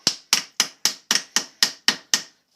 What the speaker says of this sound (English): Just hammer it down a little bit.